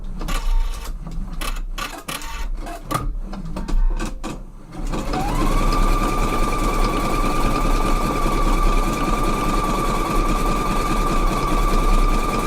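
A Husqvarna EPIC 3 sewing machine stitches fabric: short bursts of rapid needle clatter give way to a loud, steady mechanical whir with a sustained hum, close and continuous.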